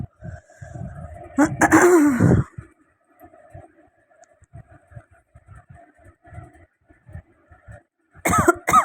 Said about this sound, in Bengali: গলায় মনে হয় কি কাশি কাশি হয়েছে